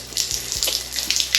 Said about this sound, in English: Now you wouldn't go without fresh water here. Look at that coming down there.